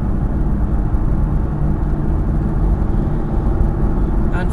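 Aston Martin engine droning steadily while accelerating on a race track, a loud, unbroken low roar from inside the car with no voices heard.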